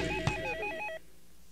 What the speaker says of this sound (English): I'm awakened by the incessant ringing of a telephone.